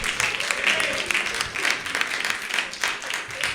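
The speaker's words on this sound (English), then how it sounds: "Can you just give them a round of applause," A seated audience at an evening talk applauds two guests with a continuous crowd round of clapping, fairly loud and sustained throughout, with faint voices mixed underneath.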